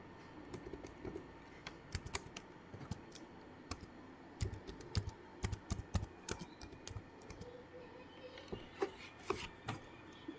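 Fast, irregular clacking of computer keyboard keys as Python code is typed, a close, steady run of crisp keystrokes with brief pauses and no voices.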